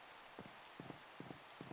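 Rain falling in Minecraft, soft pattering drops in a faint, steady wash, with small regular ticks recurring about every half second, and no voices.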